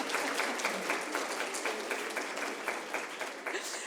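Applause from an audience at an evening conference on end-of-life philosophy and medicine, a steady wash of many hands clapping at moderate distance, fairly quiet and continuous throughout.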